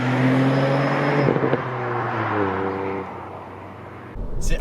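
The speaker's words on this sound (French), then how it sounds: "en mode sport dans cette voiture, l'échappement est plutôt libéré" A Ford Fiesta ST MK8 three-cylinder with its exhaust opened up in sport mode, droning loudly from inside the cabin, its steady note dropping in pitch partway through before a sharp burst near the end.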